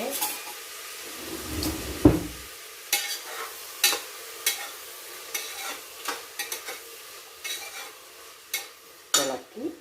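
Food is stirred in a pan over a low flame, giving soft sizzling under irregular spoon scrapes and clinks against the metal, close by, with a brief heavier clatter early on and no speech.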